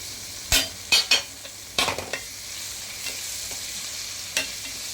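Carrots, beans, potato and peas sauté with ginger garlic paste in a pan for vegetable biryani, a low sizzle punctuated by a few sharp scrapes and clinks from a stirring spoon, irregular and close.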